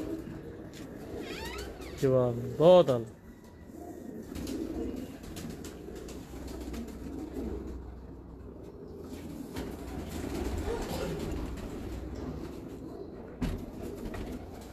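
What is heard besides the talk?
pigeons cooing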